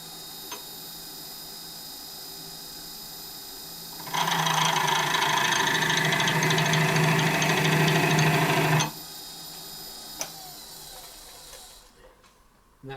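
A mini lathe whirs steadily in the background at about 800 rpm, then a louder rasping, grinding buzz from a texturing tool runs for several seconds before dropping away.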